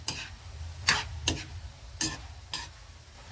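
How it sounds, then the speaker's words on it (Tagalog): A spoon stirs sautéed vegetables with hotdog in a pan, giving five or six distinct scraping strokes over a soft sizzle. "Okay, haluin muna natin."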